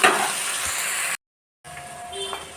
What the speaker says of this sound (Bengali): আমি মটরটা ঢেলে দিলাম